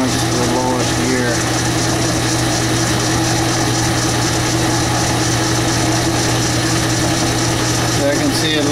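A Logan 10-inch metal lathe runs in its lowest gear with a steady mechanical hum and drone, loud and close, and someone talks over it throughout.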